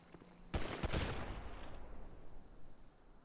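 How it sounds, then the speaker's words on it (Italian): Gunfire in GTA V: a sudden burst of rapid shots cracks out, then trails into a rattling echo and fades under steady background ambience. "ti spara"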